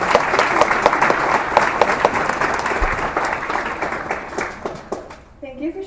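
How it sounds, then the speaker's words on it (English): Audience applause at a middle school movie premiere night, steady clapping from a crowd lasting several seconds before dying away, with a voice starting to speak at the very end. "Let's have another round of applause for our 7th graders project."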